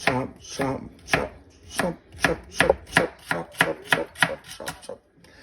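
A knife finely dices carrots on a cutting board, about a dozen crisp, evenly spaced chops close by and loud, with no talk over them.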